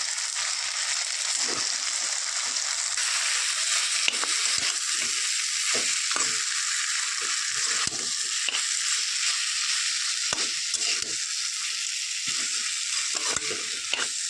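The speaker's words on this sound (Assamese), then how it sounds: "ভালদৰে ভাজি লৈছোঁ।" Meat sizzles steadily in a pan while being fried for a dish with banana stem, with a continuous close crackle punctuated by repeated scraping stirs and no talking.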